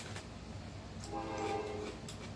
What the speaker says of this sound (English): Ignore the train going by.